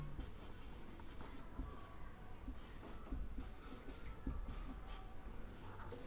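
Chalk or marker strokes on a board during an electrical engineering lecture on DC motors, a steady run of short scratchy strokes and taps continuing for several seconds, fairly close and with no talking over them.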